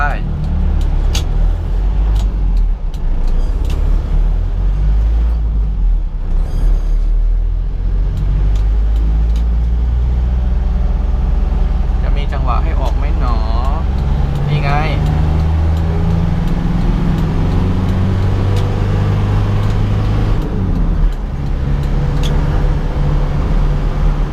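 An Isuzu TFR pickup pulls away and drives on through traffic, its engine hum and road noise steady and close, with other vehicles passing nearby as someone talks over it.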